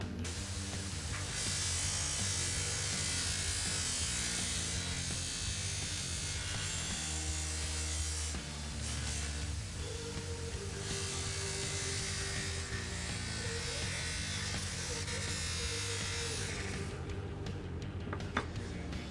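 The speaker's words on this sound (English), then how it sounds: "I'm using my buffing wheel with the Flitz polish." A buffing wheel polishes a Bonney 199 utility knife blade with Flitz polish, giving a loud, steady motorized whir that runs continuously and close up with no pauses.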